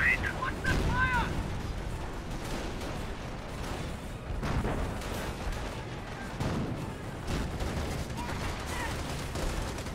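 Artillery and gunfire boom through a Company of Heroes battle on the Lorraine map, dense and steady for the whole stretch with repeated low blasts and crackling shots, and voices talk over the din.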